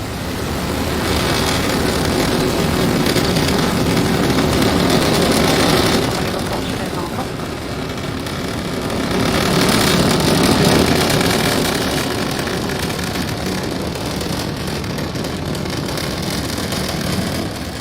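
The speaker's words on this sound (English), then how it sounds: "Falcon 9 has successfully lifted off from Pad 40 at Cape Canaveral Air Force" A SpaceX Falcon 9 rocket lifts off from Pad 40 at Cape Canaveral Air Force Station, a sustained broadband roar that swells and eases in waves, heard at a distance with commentary over it.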